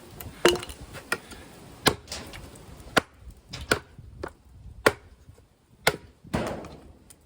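A Cold Steel Jimi Slash competition chopper hacks into a hard 2x4, about a dozen sharp, crisp chops at an irregular pace, close and clear with quiet gaps between strikes.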